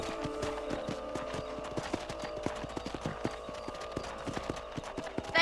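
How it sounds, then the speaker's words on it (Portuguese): Horses' hooves clip-clop repeatedly in Red Dead Redemption, a dense run of sharp, evenly spaced knocks that carries through the whole stretch over faint game ambience, with no talk. "os cavalos não param quieto não, é?"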